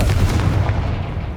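In Hogwarts Legacy, a Confringo fire spell goes off as one brief, loud, booming blast with a dense, crackling body that fades quickly.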